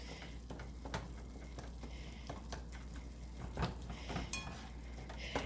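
Ground hamburger meat browning in a pan for homemade spaghetti sauce makes a steady low sizzle, broken by occasional clinks and scrapes of a utensil against the pan, at close range and with no talking.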